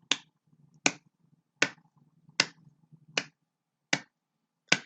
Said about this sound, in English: Now just the claps.